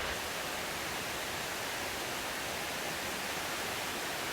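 Water pours and rushes in a mountain valley stream near Namyangju, a dense, continuous, even hiss with no breaks and no voices.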